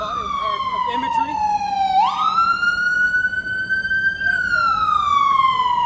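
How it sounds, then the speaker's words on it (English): A city emergency vehicle siren wails loudly and close by, its tone sliding down, jumping back up, then holding and dropping again in a slow sweeping cycle over faint background traffic. "Sirens are part of the urban experience, so I like them as a backdrop."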